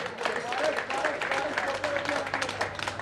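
An audience claps at a cricket festival presentation ceremony, a dense, sustained patter of applause beneath someone talking over a loudspeaker.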